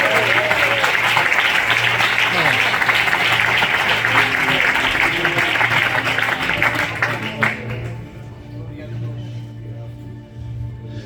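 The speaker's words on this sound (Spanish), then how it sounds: "Aplaude para Dios, por favor." Sustained applause from a church congregation, dense and steady clapping under a low droning tone, which then thins out and fades toward the end.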